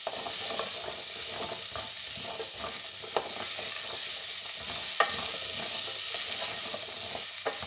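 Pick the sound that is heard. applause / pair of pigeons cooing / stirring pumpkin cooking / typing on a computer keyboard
stirring pumpkin cooking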